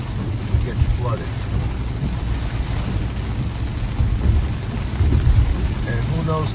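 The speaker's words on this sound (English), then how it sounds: "now the rain's picking up." Heavy rain drumming steadily on a car while driving through Brickell in Miami, a dense continuous wash over low road rumble, with a voice talking intermittently.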